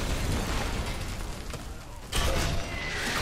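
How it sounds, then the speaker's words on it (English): Mortar shells burst in Call of Duty Modern Warfare 3 while a village is shelled, with a steady rumbling battle din and a sharper, louder boom breaking through near the end. "If it moves, put a mortar shell on it."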